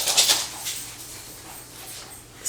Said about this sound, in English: sorry, my dogs are playing, if you hear scratching on the floor